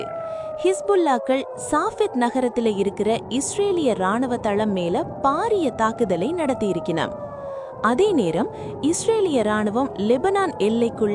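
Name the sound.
air raid sirens in northern Israel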